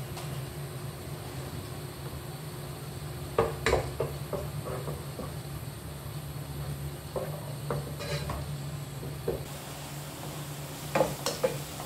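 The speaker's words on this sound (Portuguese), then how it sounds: "já estou fritando aqui, ó, o alho e a cebola" A steady sizzle of garlic and onion frying in oil for feijoada, with a few sharp clinks of stirring breaking through the continuous crackle.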